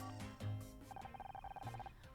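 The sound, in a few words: phone ringing in the video game Murder by Numbers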